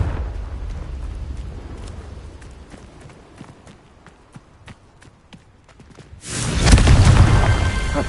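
A Confringo fire spell in Hogwarts Legacy hits with a sudden loud roaring blast near the end, following several seconds of soft ambient rustle and light footstep-like ticks.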